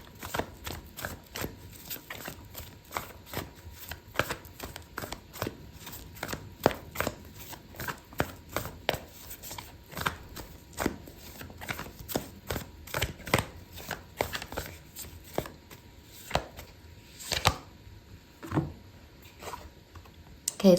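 Oracle cards being shuffled by hand, a run of quick papery riffles, flicks and soft slaps close by, irregular bursts with brief pauses, with no talk.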